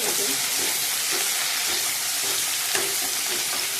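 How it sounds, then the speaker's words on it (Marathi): Mustard seeds, cumin, curry leaves and crushed garlic sizzle hard in hot oil for a Maharashtrian black urad dal tempering, a steady loud crackling hiss with small popping bursts throughout, close and without talk. "फोडणी चांगली खमंग बसली पाहिजे आमटीला।"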